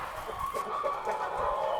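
Hens and a couple of roosters in a hen pen clucking and murmuring close by, a soft continuous chatter of fowl with no talk over it.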